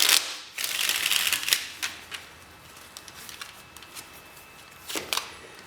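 Tarot cards riffle and snap together in a few quick bursts, close and fairly quiet, with softer rustling handling in between.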